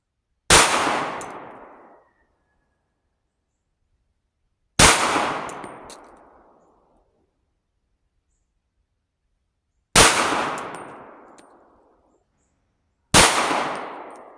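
A Tisas Stakeout 9/38 Super pistol fires four sharp shots at irregular intervals outdoors, each loud report trailing off in a long echoing decay, with no talking.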